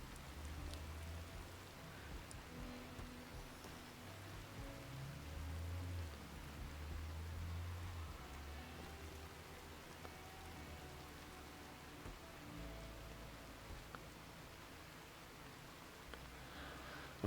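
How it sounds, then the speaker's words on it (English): Rain falls in the RimWorld colony game as a soft, steady patter, quiet and continuous, with faint sustained tones drifting underneath. "wait for the rain to end"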